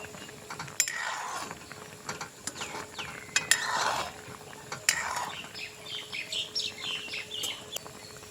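Date-palm jaggery rasgullas are stirred gently in a pan, giving scattered light scrapes and clicks over several seconds. Faint bird chirps sound in the background and no one speaks.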